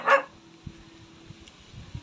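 A puppy gives one sharp, close yip at the start, followed by soft scuffling and faint low thumps in a quiet room.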